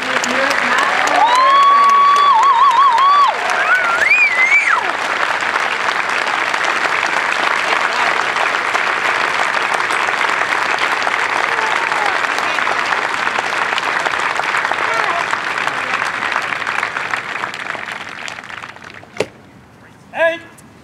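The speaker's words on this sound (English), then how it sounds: "How about a well-earned round of applause for BMT's newest national" A crowd claps and cheers for new airmen at an Air Force Basic Military Training parade, sustained broad applause lasting nearly twenty seconds after a brief announcer tone, then fading into a couple of sharp isolated knocks.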